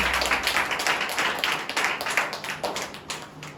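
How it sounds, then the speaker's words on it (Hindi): Congregation at a Hindi church service clapping hands together, a steady patter of many claps close by, continuous through the moment with no talk over it. "आइए जोरदार ताली बजाएंगे परमेश्वर।"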